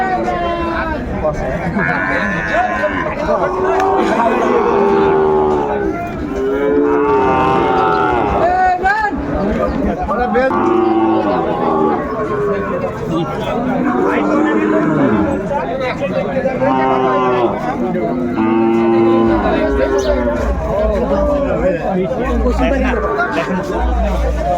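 A busy livestock market in Sylhet where Sahiwal bull calves are sold: cattle moo repeatedly over a constant hubbub of people chatting nearby.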